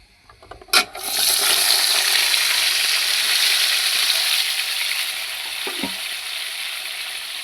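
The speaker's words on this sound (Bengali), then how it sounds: "এখন আমি আলুগুলি বাইজে নিব।" Potatoes go into a pan of hot oil: a sharp clatter, then a sudden loud, sustained sizzle that slowly softens, with a light scrape near the end.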